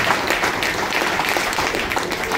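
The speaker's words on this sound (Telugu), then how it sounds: "సో కొట్టండి ఒకసారి గట్టి చప్పట్లు" Loud, dense clapping fills a training seminar hall as the audience applauds together in a sustained burst.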